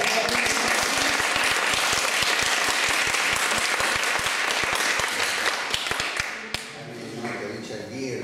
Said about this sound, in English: First applause for you.